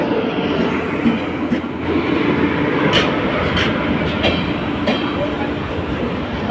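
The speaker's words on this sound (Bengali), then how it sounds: "একটা শানদারভাবে একটা এন্ট্রি নিল নর্থ ইস্ট এক্সপ্রেস" The North East Express, hauled by a WAP-7 electric locomotive from the Ghaziabad shed, rolls loudly into a station with steady wheel rumble and clattering rail joints, a voice faintly audible beneath.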